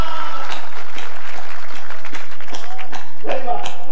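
Loud, dense clapping from an audience at a Hindi poetry recital festival, overlapping into a rough wash of applause that swells toward the end.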